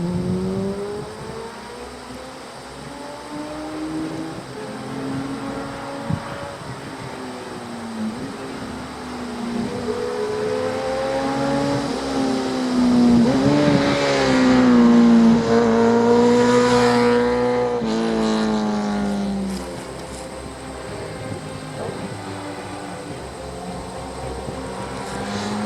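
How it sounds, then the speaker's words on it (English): A 15-year-old motorbike engine revved hard, a loud, continuous rising and falling roar that builds to a peak in the middle and then eases off, with no talking. "How does the bike sound in anger?"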